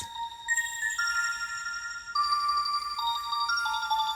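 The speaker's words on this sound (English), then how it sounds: "I added an arpeggiator, and it's a bell arpeggiator" A high-pitched bell arpeggiator in a remix, its bright tones stepping through quick repeating patterns with long echoing tails that blur together; fairly quiet and alone, with no voices.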